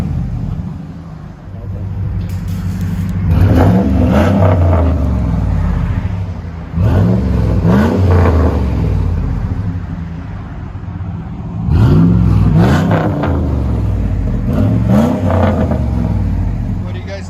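A Dodge RAM 4.7L V8 Magnum with a Jones exhaust revs up three times, near 100 decibels, rumbling loudly between pulls with a steady throaty drone, heard up close.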